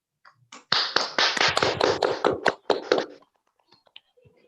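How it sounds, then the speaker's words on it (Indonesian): Short burst of applause in a room after a student presidential election peace declaration at Universitas Sriwijaya, a few hands clapping in a quick, dense cluster for about three seconds, then fading to scattered taps. "berikan tepuk tangan untuk kita semua pada kegiatan deklarasi hari ini"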